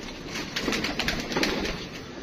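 A pigeon beats its wings as it takes off and flies away, a quick run of soft, papery flaps close by that rise and fall over about two seconds with no talking.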